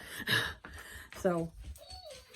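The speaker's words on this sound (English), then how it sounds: "That's my dog in the background, if you're wondering what that whining is." A dog whines in the background, a thin rising whimper late in the clip, faint beneath a person talking close by.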